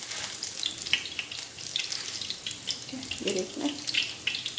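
Peshawari chapli kabab, topped with a tomato slice, fries on one side with a steady, moderate sizzling hiss, and a voice briefly speaks over it.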